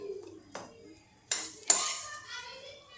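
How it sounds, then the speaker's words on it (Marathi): Hot cluster bean thecha being pounded in a mortar, three separate hard knocks spaced unevenly, close and sharp, with faint voices in the background between strikes. "हा ठेचा मी थोडा थोडा वाटून तुम्हाला दाखवणार आहे"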